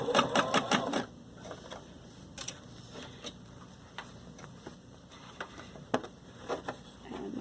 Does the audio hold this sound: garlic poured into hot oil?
no